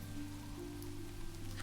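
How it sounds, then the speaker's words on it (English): Steady, even heavy rainfall in the medieval game My Liege, a dense continuous hiss with a low hum beneath, no voices. "So let's hang out for a moment in heavy rain"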